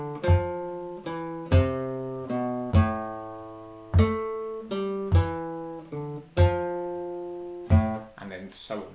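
Guitar plays the opening bars with a swing rhythm, plucked chords and notes ringing out in an uneven, bouncy long-short pattern, close and clear with no talking.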